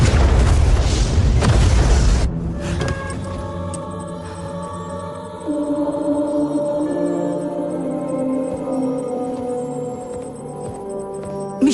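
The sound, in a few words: missile explosion in a movie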